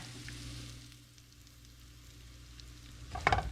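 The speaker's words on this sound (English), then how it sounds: "So we're just going to fry these a little bit in here until they're caramelized" Thin zucchini slices frying in oil in a pan, a soft steady sizzle throughout with a brief louder crackle and clatter near the end, no talking.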